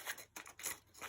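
Scissors trimming paper for a glue book, a few quiet snipping cuts in quick succession, close and soft with no talking.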